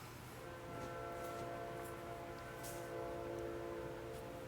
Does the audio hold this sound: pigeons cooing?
no